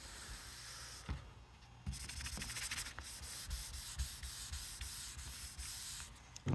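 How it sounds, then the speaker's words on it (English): Sandpaper on a sanding block rubs off a car's ceramic coating in a close, steady scratchy hiss with brief pauses and strokes, no talk. "I'm putting a little bit, just enough to keep this sandpaper on the block."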